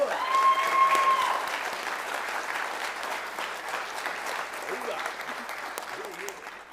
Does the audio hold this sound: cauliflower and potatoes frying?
no